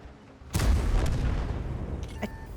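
A single heavy artillery boom in World of Tanks, a sharp loud blast that rolls into a long rumbling decay, with faint small clicks near the end.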